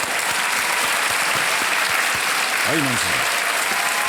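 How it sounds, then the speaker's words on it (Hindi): Loud, sustained studio audience applause on the KBC game show as a contestant departs, continuous clapping throughout with a voice briefly speaking over it near the end. "तालियों के साथ आपका अभिनंदन करते हैं और आपसे विदाई लेते हैं"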